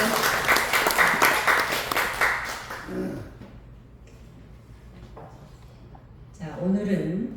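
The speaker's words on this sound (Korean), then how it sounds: "박수 한번 보내주십니다" Audience applause at a lecture, a few seconds of clapping that fades quickly into a spoken voice, with talk resuming near the end.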